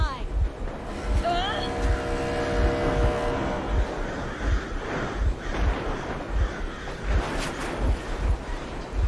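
A boat engine in the Metro Exodus video game drones steadily with a regular low thumping pulse throughout, under a tense spoken exchange and some wind-like rushing noise.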